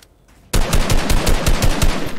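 A video game minigun roars into sustained rapid fire after a brief quiet moment, loud and close, with dense rhythmic pulses continuing steadily without a break and no talking.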